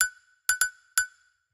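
A bright bell sample from a tech house track rings out in four crisp hits, two quick ones close together, each with a short ringing tail and clean silence between.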